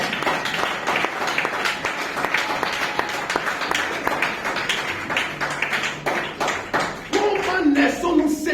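A church congregation applauds and claps steadily to acclaim God, a dense ongoing wash of hand claps with voices mixed in, ending with a short stretch of louder talk or singing over the crowd.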